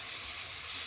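Onions and tomatoes sizzle steadily in a pan as they cook down into a soft sauce for keto telur belado, a constant close hiss with no voices.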